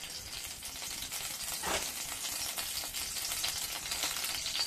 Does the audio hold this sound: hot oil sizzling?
yes